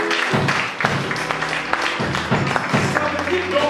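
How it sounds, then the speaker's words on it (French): A church congregation applauding together, a loud, close burst of clapping with irregular thumps and pulses, mixed with voices. "Acclamons très fort notre Seigneur."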